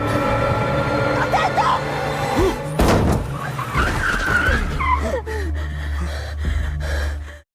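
A car driven recklessly at full speed near the woods in a film scene roars with skidding tires and engine strain, mixed with sharp gasps and breathy vocal sounds before cutting off.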